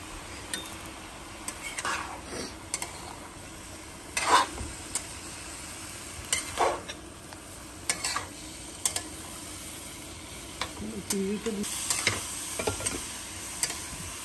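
Radish and tomatoes sautéing in a pan give a low sizzle, broken by repeated scraping stirs and sharp metal clinks of a utensil on the pan, close and steady with no voices.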